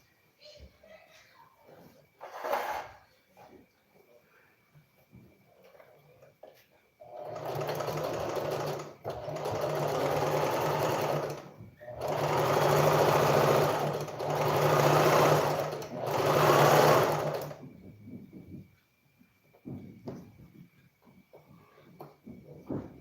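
Sewing machine stitching an Ankara long skirt, several steady runs of motor hum and needle clatter separated by brief stops, with a quiet voice talking before and after the stitching.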